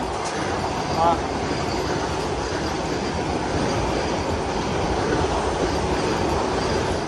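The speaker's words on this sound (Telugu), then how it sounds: "సో మన విశాఖపట్నం సికింద్రాబాద్ వందే భారత్ అయితే వస్తుంది, చూస్తున్నారు కదా." From aboard the Golconda Express halted at a crossing, the Visakhapatnam–Secunderabad Vande Bharat passes by, a steady loud rumble of rolling wheels and carriages with a brief squeal, close and continuous.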